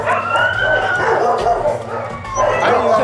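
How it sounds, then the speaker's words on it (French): Small dogs at an animal shelter bark, yip and howl in overlapping bursts close by, with a mournful howl rising and falling and human voices mixed in. "celui qui hurle, c'est qu'il a sa collerette et qu'il n'est pas content"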